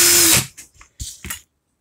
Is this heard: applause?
no